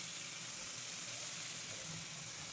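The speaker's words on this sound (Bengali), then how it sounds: "করলাটা একটু লাল করে ভাজবেন" Bitter gourd fries in a pan for Bengali shukto, a soft, continuous sizzle and faint hiss heard at low level with no voices.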